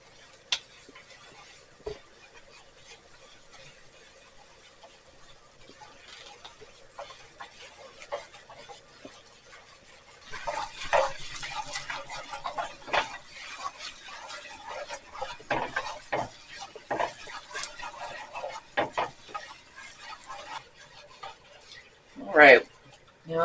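Flour being stirred into melted butter in a pan, quiet at first, then a long run of scraping and clinking spoon strokes against the pan, ending in a sharp knock.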